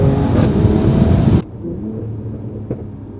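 A 2019 Mercedes-AMG CLS 53 engine revs hard and loud, then cuts off sharply as it downshifts, dropping to a lower rumble with a brief blip of throttle.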